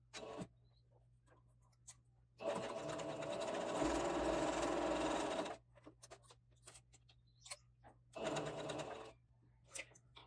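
A sewing machine runs a straight seam and then a finishing stitch on fabric, a steady close whir lasting about three seconds, followed by a shorter burst after a pause, with small handling clicks in between.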